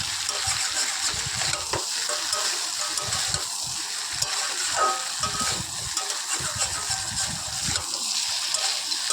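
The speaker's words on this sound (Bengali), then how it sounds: "এর মধ্যে জল বা বড়িগুলোও দিয়ে দেবো, দিয়ে ভালো করে নাড়াচাড়া করে মিশিয়ে দেবো" Shukto curry with milk, water and bori lentil dumplings is stirred in a pot: a continuous bubbling, watery simmer with intermittent stirring clatter, fairly close.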